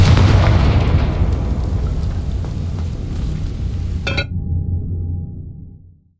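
Rumbling fiery spell blasts from the Hogwarts Legacy video game roar loudly, then fade over several seconds, with a sharp crackle near the end before the sound cuts off.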